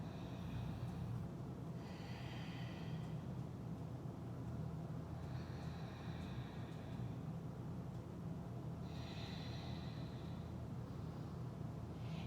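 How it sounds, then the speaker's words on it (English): Slow, deep yoga breaths held during a seated spinal twist, three drawn-out hissing exhales spaced a few seconds apart over a low steady background hum, quiet and close with no talking. "2 more deep breaths here."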